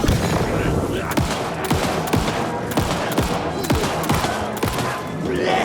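Gunshots in the horror video game Alan Wake 2, a run of sharp loud shots at uneven intervals over a dense, rumbling background, with no speech.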